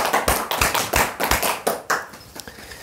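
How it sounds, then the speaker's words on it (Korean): Audience applause at a Korean dharma talk, heard as a series of sharp, separate hand claps with an uneven rhythm, close and fairly loud. "큰 박수 부탁드립니다"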